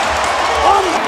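Basketball arena crowd cheering for Tristan Thompson's hustle during an NBA game, a steady broad roar of spectators that swells slightly near the end, with a commentator talking over it.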